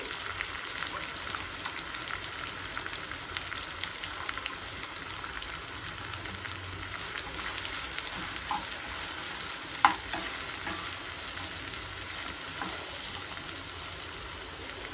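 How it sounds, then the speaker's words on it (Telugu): Onion, green chillies and mint fry in a pan with a continuous, even crackling sizzle that holds steady and close throughout, with one small sharp tick partway through. "ఈ ఉల్లిపాయ, పచ్చిమిరపకాయని బాగా మగ్గనివ్వాలి"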